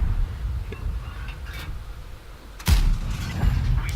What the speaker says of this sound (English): I actually fired a heat round there to no avail.